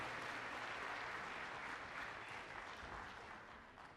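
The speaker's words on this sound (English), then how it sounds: "So a round of applause for them." Audience at a middle school concert applauding, a steady wash of many hands clapping at a distance, fairly faint, holding evenly before tapering off slightly at the end.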